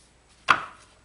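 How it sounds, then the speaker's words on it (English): A RotaTrim paper trimmer slices through a few book pages in one quick pass, a single crisp swish-crunch close up that fades quickly into quiet. "Take these back few pages, same things, put them on my RotaTrim, slice that down"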